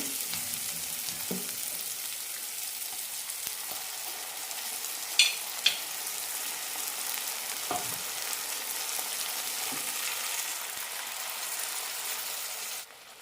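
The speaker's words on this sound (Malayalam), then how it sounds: "തക്കാളി നന്നായി വെന്തുടയുമ്പോൾ അരപ്പൊഴിക്കാം" Ground coconut paste frying with cooked tomatoes in a pan, a steady hissing sizzle throughout with occasional faint stirring taps and clinks.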